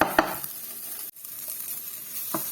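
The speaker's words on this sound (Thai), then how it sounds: "ผัดให้หอมเลยค่ะ" Chili curry paste stir-fried in a pan, a bright close sizzle with scraping strokes of a spatula, a sharp clack near the start and a brief break midway, no voices.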